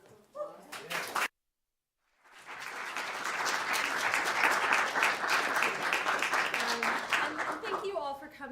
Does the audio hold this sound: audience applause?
yes